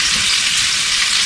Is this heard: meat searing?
yes